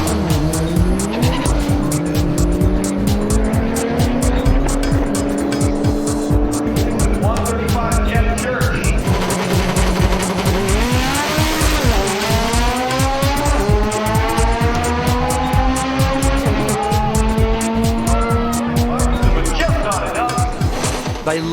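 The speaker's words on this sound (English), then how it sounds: "We also checked out the last round of the import drag racing circuit." Import drag racing cars, including a street-registered Honda Civic, roar and rev at a strip with repeated rising engine sweeps and tire squeal, loud and continuous beneath a talking narrator.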